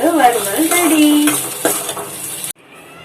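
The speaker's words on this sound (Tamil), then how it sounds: "இப்போ நல்லா இந்த மாதிரி கிளறி விட்டுட்டு ஆஃப் பண்ண போகிறோம்" A utensil stirs taro root fry sizzling in a pan, with scraping and clinking against the metal over steady frying hiss, close and loud, before the sound cuts off abruptly.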